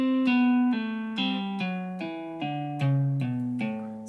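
Evenly played guitar pull-offs on one string, a smooth, steady chain of about ten plucked notes stepping downward, each ringing clearly into the next, heard alone and close.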